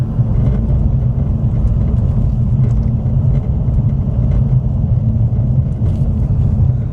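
Car driving over a very bumpy road, a constant low rumble of engine and road noise with irregular thumps and rattles, steady and close, no voices.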